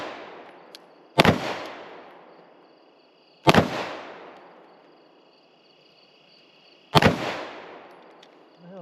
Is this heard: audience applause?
no